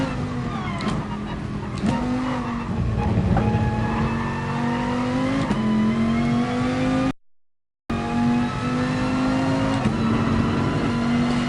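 A race car engine in Gran Turismo Sport holds a steady, loud drone, with pitch shifting through gear changes and revs. There is a brief dropout partway through before the sustained engine note resumes.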